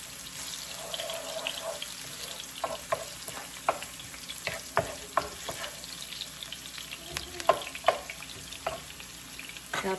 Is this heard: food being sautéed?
yes